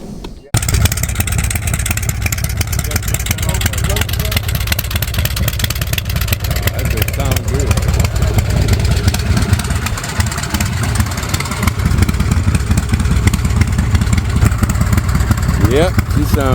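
A custom chopper motorcycle engine idles nearby in a steady, throbbing low rumble that holds throughout, with people talking over it at moments.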